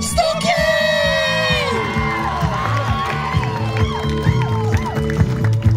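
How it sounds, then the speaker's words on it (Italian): A crowd at a late-summer outdoor concert cheers, whoops and yells for the singer at the close of the show, under music and a loudly announcing voice, with children's shouts mixed in. "E adesso l'ultimo applauso, l'urlo più grande, vi ha dato tutto, dovete dare tutto a lui."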